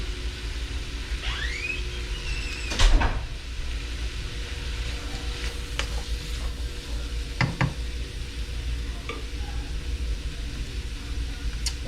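Mushrooms, garlic, diced zucchini and onions for a shrimp stir fry sizzle steadily in a pan, a soft continuous hiss broken by a few sharp clinks and scrapes of stirring.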